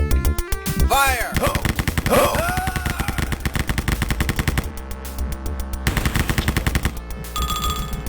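Rapid bursts of automatic gunfire in a custom first-person shooter game map, loud and close, firing in dense repeated volleys with brief gaps between them, no talk over it.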